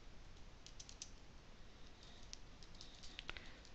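Soft, quick keystrokes on a computer keyboard as code is typed, a steady patter of light clicks with a few sharper taps near the end, close by over faint room hiss, no talking.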